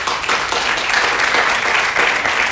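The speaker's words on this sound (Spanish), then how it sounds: "Dale un aplauso fuerte al Señor." A church congregation bursts into loud, sustained applause, dense clapping filling the space for a few seconds without pause.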